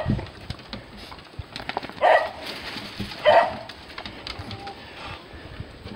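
Playful beagles bark twice, in two short, sharp yelps about a second apart, heard at moderate distance over faint background noise.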